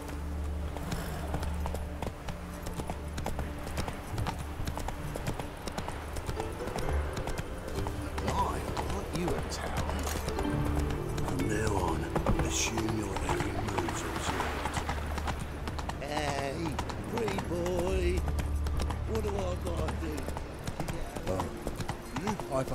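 The horse Roach clip-clopping along in a video game, steady hoof beats through the whole stretch with game speech and music playing over them.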